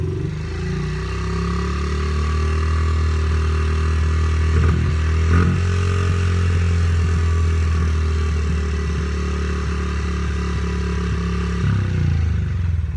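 A 2005 Honda CRF50 small dirt bike engine runs steadily after starting, a loud, close, buzzing idle that holds even throughout with a brief clatter near the middle before it cuts off at the end.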